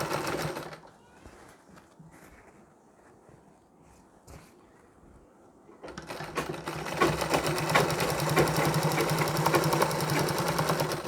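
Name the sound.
sewing machine stitching a sari border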